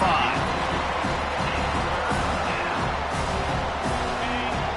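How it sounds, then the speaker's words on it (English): Home crowd at a college football game roars steadily as the defense tries to get off the field on third down, a dense continuous wash of cheering with a commentator talking over it. "Here comes this home crowd as the defense tries to get off the field on third down."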